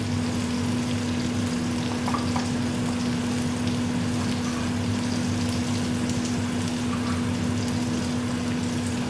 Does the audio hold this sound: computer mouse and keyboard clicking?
no